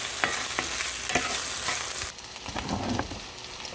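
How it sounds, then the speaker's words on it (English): Okra sautés in olive oil seasoned with salt and pepper, giving a steady close sizzle with scattered clicks of stirring that continue throughout. "Sauteing okra and olive oil, salt and pepper."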